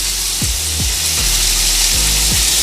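Bacon fries in a pan until crispy, a loud steady hiss of fat close up, with a few low thumps repeating at regular intervals beneath the sizzle.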